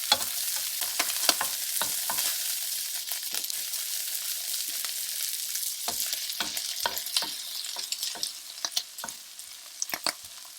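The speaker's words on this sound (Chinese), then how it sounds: "煎到虾仁变色，加入红葱头末，" Shrimp and minced shallots stir-frying in a wok over high heat, a continuous close sizzle punctuated by frequent sharp scrapes and clacks of the spatula against the pan.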